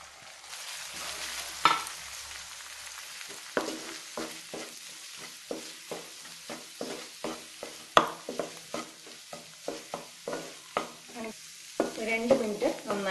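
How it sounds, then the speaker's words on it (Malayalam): Egg and peas fry in a pan under quick, rhythmic stirring, a fast run of scrapes and knocks over a low sizzle, close and distinct, without talking. "നന്നായിട്ട് ഇളക്കി യോജിപ്പിക്കുക"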